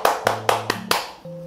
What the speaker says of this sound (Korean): 수고하신 모든 분들께 수고의 박수 하도록 하겠습니다